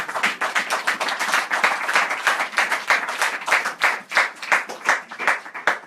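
A church congregation claps and applauds together in praise during a French-language sermon, a dense, steady burst of many hands close and loud that runs throughout with no talking.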